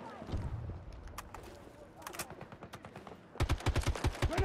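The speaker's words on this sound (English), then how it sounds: "Assault rifle." RM8 assault rifle fire in the Battlefield 2042 video game: several rapid automatic bursts, loud and close, with a pause midway before a final sharp, evenly spaced burst.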